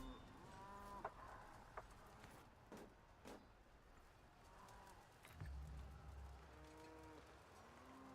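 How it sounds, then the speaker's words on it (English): Lowing cattle in Crusader Kings III: a couple of long moos at the start, a quieter stretch with scattered clicks and a low thud, then more mooing near the end over soft game ambience. "What are these cow noises?"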